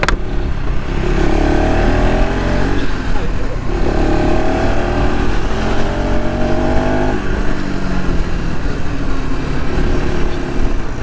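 A KTM ADV 350 adventure motorcycle accelerates hard on a test ride, its engine note climbing through repeated rising sweeps as it goes up through the gears. The sound is loud and close, buffeted by heavy wind noise, with a voice speaking over it.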